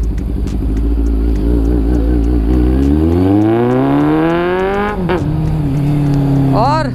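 A Kawasaki Z800 superbike engine revs up in first gear, its loud, rising pitch climbing steadily before dropping off sharply, then a brief second rev near the end, heard close and dominant throughout.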